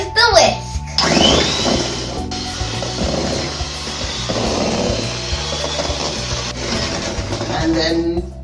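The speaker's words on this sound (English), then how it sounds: "Now we're going to whisk until it's fluffy." An electric whisk whirs steadily for most of the stretch, beating a batter until fluffy, with brief pauses and restarts and children's and adults' voices chattering over the motor.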